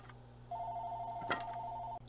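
A telephone rings once in a single steady electronic tone lasting about one and a half seconds, fairly faint above a low background hum.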